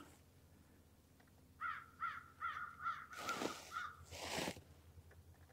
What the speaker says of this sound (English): There's the crow.